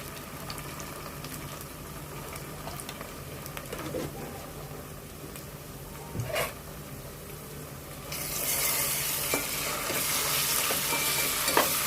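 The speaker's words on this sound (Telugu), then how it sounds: "ఉల్లిపాయ పచ్చిమిరకాయలు నూనెలో మగ్గిపోయినాయండి ఇప్పుడు అల్లం వెల్లుల్లి పేస్ట్ వేస్తున్నాను" Ginger garlic paste frying in oil with softened onions and green chillies for bagara rice, a steady close sizzle with occasional stirring scrapes that grows louder and hissier in the last few seconds.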